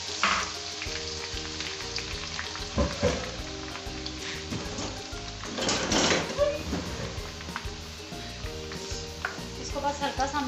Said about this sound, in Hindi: ऑयल हमारा गर्म हो गया, इसके अंदर हम डाल देंगे ये हमारा जो है कटा हुआ लहसुन।